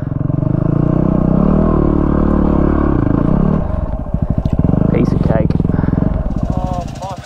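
A Yamaha WR250R motorcycle is ridden hard up a step on a trail. Its engine roars loud and close, then drops to a rapid, choppy putter as it bumps over the step, and a voice talks over it.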